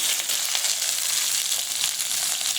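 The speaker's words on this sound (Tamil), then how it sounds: "வெண்டைக்காவும் பெரிய வெங்காயமும் 2 நிமிஷம் வதங்கிடுச்சு" Okra and large onion sauté in an oily pan, giving a steady, close hiss of sizzling that holds evenly at a constant level throughout, with no voices.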